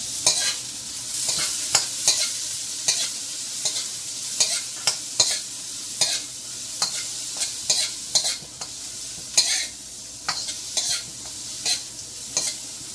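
Chicken fried rice sizzles in a hot pan while a utensil stirs it in quick, uneven scraping strokes. The hiss of frying runs steadily underneath, close and fairly loud, with no talking.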